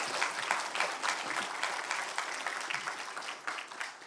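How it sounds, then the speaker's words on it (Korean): A congregation gives a warm round of applause welcoming the pastor at a church worship service, dense even clapping throughout that fades slightly toward the end. "Please welcome him with a big round of applause"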